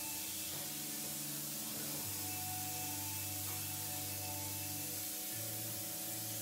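A paint spray gun hisses steadily as it sprays paint, a continuous airy spray with a faint tonal hum beneath it and no talking.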